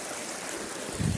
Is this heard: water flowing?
yes